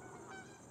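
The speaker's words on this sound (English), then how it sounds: "There's some geese." Geese honk on a farm in a brief, faint burst of overlapping calls, distant and soft against background noise.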